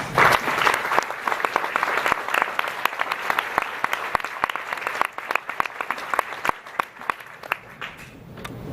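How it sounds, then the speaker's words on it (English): An audience at a panel discussion on cooperatives claps warmly. Dense, steady applause fills the room and slowly thins out toward the end. "So if you give them all a big round of applause."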